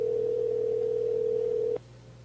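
A steady electronic ringback tone on an outgoing telephone call, one long unbroken tone that cuts off abruptly near the end, over a low constant hum.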